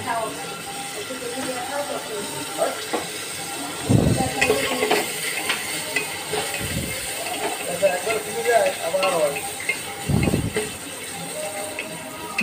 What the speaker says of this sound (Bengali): সবগুলো আমরা দিয়ে হালকা করে এটাকে ভেজে নেব